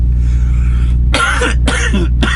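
Three sharp coughs in quick succession, close to the microphone, over a steady low hum.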